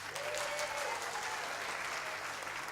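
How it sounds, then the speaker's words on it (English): Faint, steady audience clapping fills a theater during a stage performance of It's a Wonderful Life, a soft continuous patter heard from a distance with no break. "Clapping."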